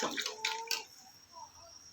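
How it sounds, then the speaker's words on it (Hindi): Water poured into a pressure cooker of paya (goat trotter) broth, a short rushing splash over the first moment that gives way to quieter bubbling and faint clinks. "पानी इसमें डाल देंगे और इस शोरबे के लिए अच्छी तरह पका लेंगे।"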